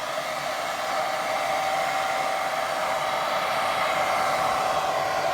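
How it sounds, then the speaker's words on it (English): A hair dryer on low heat blows with a steady, even whoosh and a faint whine, running continuously and fairly close, drying a watercolour painting. "I think I'll pop my dryer on a low heat just to dry that top bit a bit."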